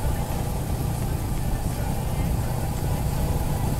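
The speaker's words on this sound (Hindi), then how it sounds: "बाइक थोड़ा बबल कर रहा है अपना" A Royal Enfield Hunter 350 motorcycle rumbles with a steady, uneven burble while being ridden, heard up close under constant wind and road noise.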